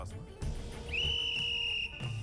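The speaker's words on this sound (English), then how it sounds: "The sound of the whistle means that everyone has to leave the cave" Whistle sounding inside a pilgrimage cave as a signal for visitors to leave, one sustained high steady tone lasting about a second amid a murmuring, echoing crowd.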